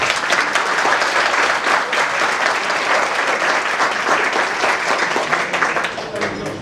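Dense, steady applause from an audience at a Greek archaeology service event fills the whole stretch, loud and continuous, easing slightly near the end.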